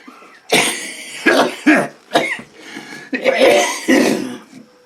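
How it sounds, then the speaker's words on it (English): A person recovering from neck surgery coughs repeatedly in harsh, throaty bursts, with a few throat-clearing sounds between fits; close and loud, no talking. "been coughing like crazy for about 5-6 minutes here."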